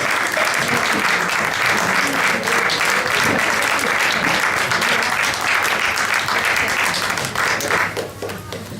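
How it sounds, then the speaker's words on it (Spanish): Sustained applause from a large audience at a presentation on traditional Valencian dress and hairstyles, loud dense clapping that holds steady for several seconds before fading toward the end. "Y un aplauso a todos ellos."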